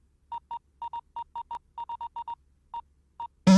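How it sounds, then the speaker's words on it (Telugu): A mobile phone in a Telugu film scene sounds a message tone: a series of short, evenly pitched electronic beeps, some in quick pairs, spaced irregularly over a few seconds before a sudden louder burst at the end. "అక్కడ ఫోన్ వస్తుంది చూడు"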